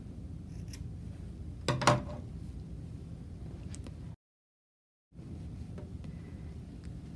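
Scissors snip the yarn tails off a finger-knitted scarf, a faint pair of quick cuts close by over a steady low hiss, followed by a brief dropout to silence.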